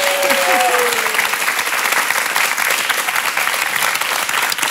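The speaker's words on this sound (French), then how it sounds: "Applaudissements." Sustained TV studio audience applause on a French talk show set, dense clapping from a large crowd, loud and even throughout, with a brief fading voice at the very start.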